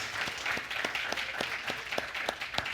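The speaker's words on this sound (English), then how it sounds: "would you mind doing an applause?" An audience applauds at a community center event, steady moderate clapping with distinct individual claps in a loose rhythm, fairly far off and on its own.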